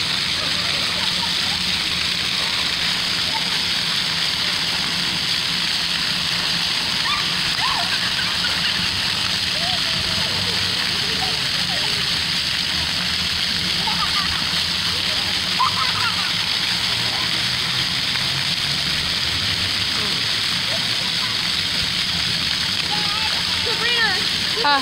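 Water sprays and splashes steadily at an outdoor splash pad, a constant hissing wash of droplets with faint voices in the background.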